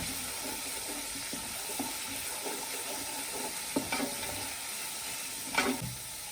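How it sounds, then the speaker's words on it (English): A steady close sizzle from a pan sautéing ingredients for Nigerian coconut fried rice, with occasional light stirring clinks and scrapes over the continuous frying hiss. "I'm just going to saute this for a few seconds"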